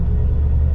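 A 1941 Cadillac Series Sixty engine hums in second gear during a drive, a steady low rumble and whir that sits close and fairly loud, quiet in character with no talk over it.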